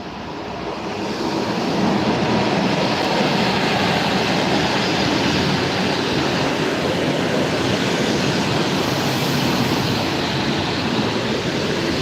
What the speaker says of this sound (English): Ah, there's one train.